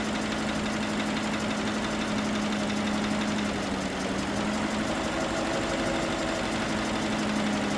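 A GMC Sierra 1500 pickup's replacement engine idles steadily with a low, rough rumble and faint ticking, continuous throughout with no voices.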